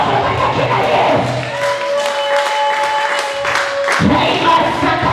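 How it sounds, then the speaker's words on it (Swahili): A church congregation clapping for Jesus during a Swahili sermon, loud dense applause from a crowd with cheering, a preacher's voice mixed in. "Mchape Yesu makofi katika jina la Yesu."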